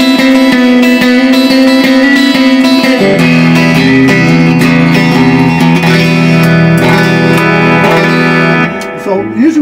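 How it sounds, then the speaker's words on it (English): A Fender Telecaster electric guitar rings out with a bright, twangy tone, playing sustained chords and notes loudly and close, with effects adding reverb and shimmer, then decaying near the end. "It's got a nice telly twang in the center."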